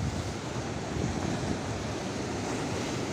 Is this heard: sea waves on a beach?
yes